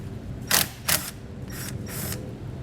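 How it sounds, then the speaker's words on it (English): 12mm socket ratchet loosening a battery terminal nut on a 2016 Nissan, a few crisp close clicks in two short pairs, alone over a quiet background. "We're going to use a 12mm socket to remove the nut here."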